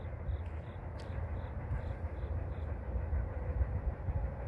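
An empty southbound CN grain train hauled by CN ES44DC and ET44AC locomotives rumbles past steadily and loudly, a dense low roar with faint rhythmic clicks above it and no voices.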